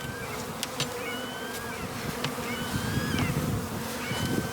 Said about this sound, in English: And the bees are alive and they're happy.